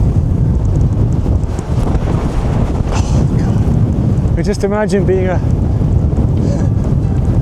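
Strong wind battering the microphone on an exposed hilltop Iron Age fort, a constant loud rumbling roar throughout, with someone speaking briefly in the middle.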